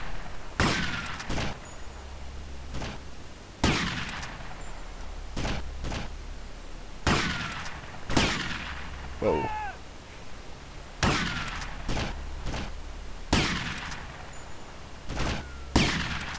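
Gunfire in GTA Vice City during a shootout on a Print Works asset mission: sharp bursts of shots recur every couple of seconds over a low steady rumble, moderately loud, with no talk.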